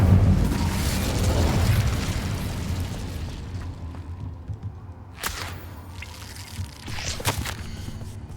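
A fire spell cast in the video game Hogwarts Legacy: a loud roaring whoosh of flame at the start that fades, followed later by two sharp crackling bursts against a quieter rumbling background.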